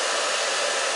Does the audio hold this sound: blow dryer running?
yes